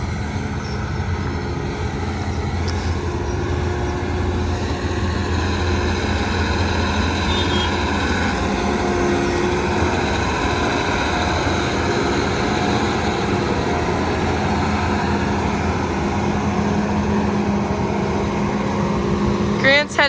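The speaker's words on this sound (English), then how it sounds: "Looks like Grant is getting the combine fired up." A combine harvester's engine running at a steady heavy drone, a loud continuous low rumble and whir nearby with no clear start-up surge.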